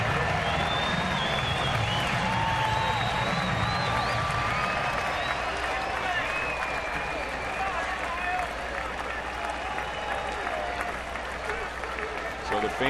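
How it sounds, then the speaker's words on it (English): A sellout baseball stadium crowd cheers steadily for the Kansas City Royals against Baltimore, a continuous roar with clapping and whistles that fills the whole stretch beneath a broadcaster's talk. "So the fans standing and cheering on the Royals"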